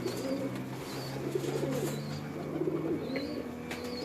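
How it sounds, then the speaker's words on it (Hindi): Pearl-spotted pigeons coo in low, repeated rolling phrases against a steady background hum, with faint chirps from other birds scattered above. "ये मोतियों वाले कबूतर हैं जी।"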